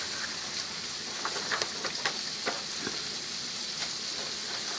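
Potatoes frying in bacon grease in a pot make a steady close hiss, like rain, with scattered pops and crackles and no talking.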